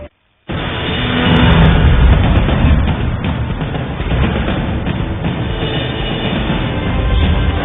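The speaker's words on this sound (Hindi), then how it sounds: "लोकल ट्रेन में इस वक्त हम मौजूद हैं।" Continuous loud rumble and rattle of a Mumbai local train running, heard from inside a carriage, steady dense noise after a brief silent start, with a slight swell partway through.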